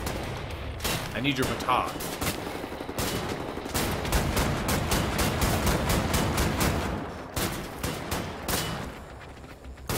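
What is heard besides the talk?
gunfire in the video game Wolfenstein: The New Order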